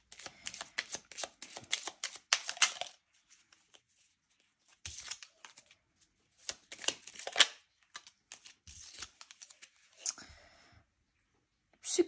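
A deck of oracle cards is shuffled close up in several quick riffling, flicking bursts, separated by quiet pauses.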